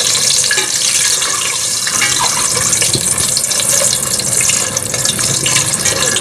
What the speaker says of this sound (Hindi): अंडों को हम फ्राई कर लेंगे, अंडों को हम गोल्डन फ्राई करेंगे इस तरह से।